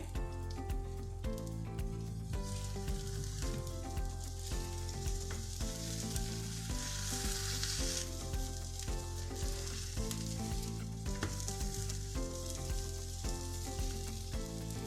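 Egg and cheese sizzle steadily in a covered pan as the cheese melts, a constant soft frying hiss under background music.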